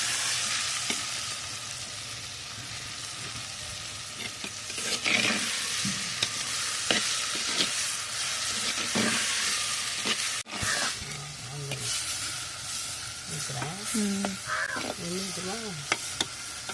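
Onions and tomatoes sautéing in a pan for a fish curry, a continuous close sizzle and hiss with occasional stirring scrapes and clinks, and brief faint bird calls in the background near the end.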